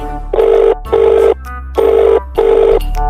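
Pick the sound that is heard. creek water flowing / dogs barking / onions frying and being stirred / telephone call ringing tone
telephone call ringing tone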